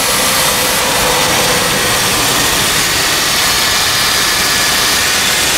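Dodge Intrepid 2.7 liter V6 running right after both belts were replaced, heard close up as a loud, steady broadband roar with no pauses, no squeal and no voices.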